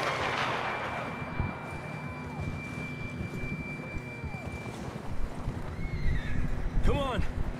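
Horse in the video game Red Dead Redemption 2 snorts and whinnies under a steady ambient bed with a thin tonal hum, with a sharper burst near the end; someone talks over it.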